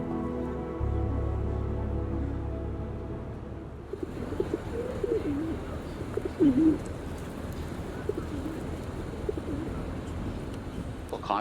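A flock of pigeons coos in soft, warbling, overlapping calls close to the microphone, with a low hum at the start and some fluttering and shuffling mixed in.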